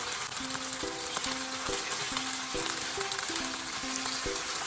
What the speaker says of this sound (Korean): 기름에 튀기듯 구워주시면 됩니다.